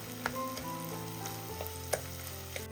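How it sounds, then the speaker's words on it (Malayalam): Tomatoes cooking down in a pan as they are stirred, a constant quiet sizzle with a few spatula clicks, heard close under soft background music, no voices. "ഈ തക്കാളിയും കൂടെ ഒന്ന് വാടി വരുന്നവരെ ഒന്ന് ഇളക്കി കൊടുക്കാം."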